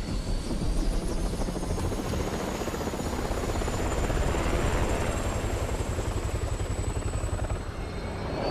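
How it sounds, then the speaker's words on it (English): A helicopter arrives in the video game Resident Evil 6, its loud, continuous rotor chop thumping rapidly and steadily under a rising turbine whine, with no speech. "A chopper. I can finally get out of that hellhole."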